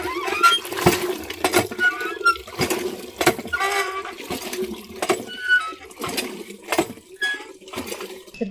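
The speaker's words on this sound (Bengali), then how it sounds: "এবার আমি মাছটাকে ভালো করে ধুয়ে পরিষ্কার করে নেব" Small fish are rinsed with water in a kitchen, with repeated splashing bursts and clinks of a bowl or vessel at irregular intervals, close and fairly loud.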